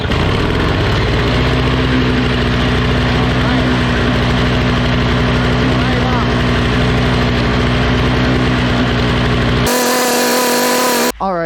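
A snowblower engine roars steadily after being primed and pull-started, its carburetor having been completely dry, a loud continuous running drone that holds for several seconds before cutting off near the end.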